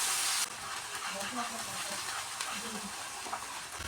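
Mustard seed paste fries in a pan with a splash of water, giving a steady, close sizzle and hiss after a brief louder burst at the start. Faint stirring scrapes sound under it.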